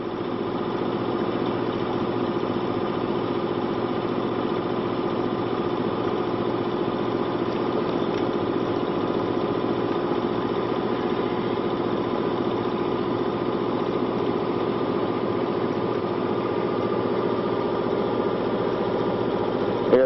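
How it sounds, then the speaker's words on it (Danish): A boat engine motors out of a fjord, a steady droning hum with even vibration that continues unbroken throughout at a constant, fairly loud level. "styrer for motor ud af fjorden"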